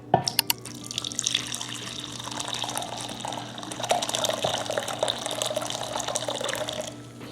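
Liquid poured out while making homemade paneer after curdling with vinegar, a steady watery stream running for several seconds with a few splashy drips at the start.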